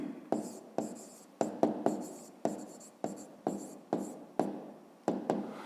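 A pen writes a formula on paper for a fifth-grade maths exercise. Close scratchy strokes come in short repeated bursts with brief pauses between them, steady and fairly quiet, with no talk.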